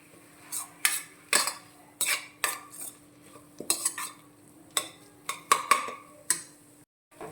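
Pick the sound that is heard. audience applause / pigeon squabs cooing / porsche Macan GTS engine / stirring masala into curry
stirring masala into curry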